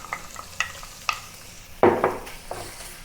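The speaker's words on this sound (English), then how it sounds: "to fry the pork." Pork fried in Sichuan peppercorn-infused oil for mapo tofu, a close, steady sizzle broken by several sharp scraping stirs, with one loud burst of spattering frying in the middle.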